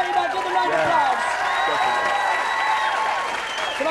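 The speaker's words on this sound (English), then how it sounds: "Give them a round of applause" Studio audience at a light entertainment show clapping and cheering, with scattered whoops and lively vocal reactions riding over a steady wash of applause.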